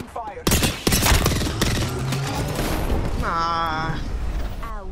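Rapid, loud gunfire from the video game Apex Legends, with dense repeated shots and booms, runs almost continuously while a player talks and shouts over it.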